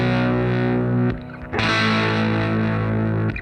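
Distorted electric guitars ring out with a sustained piano chord in a disco song, a thick, loud held chord that breaks off briefly near the middle and then swells back before stopping.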